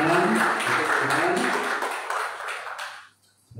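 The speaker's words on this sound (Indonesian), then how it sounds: "itu berikan tepuk tangan untuk Tuhan" Church congregation clapping during a Sunday worship service in Batam, Indonesia, a dense, loud wash of hands that thins out and fades toward the end, with a brief low tone returning at the close.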